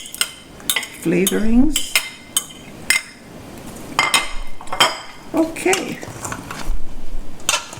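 A spoon stirs a pot of Jamaican curried chicken with scattered clinks and scrapes against the metal, mixed in with someone talking close by.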